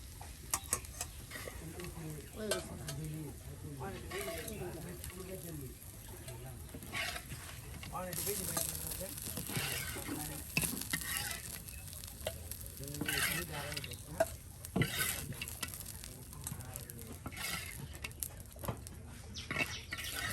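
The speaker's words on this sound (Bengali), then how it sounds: "এই যে শাক ভাজি করছি" Bottle gourd leaves (lau shak) fry and get stirred in a pan, a soft sizzle with scraping stir strokes and clicks, heard faintly under people talking throughout.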